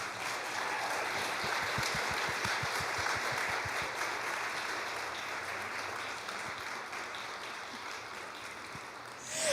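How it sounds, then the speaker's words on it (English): Sustained applause from a handbell concert audience, steady and dense throughout, with a few scattered louder claps near the start. "So can we just give them a round of applause?"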